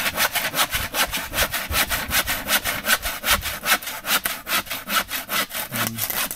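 A hand saw cuts through wood with steady, rapid back-and-forth strokes, each pass giving a loud, close rasp in an even rhythm, with no talk over it.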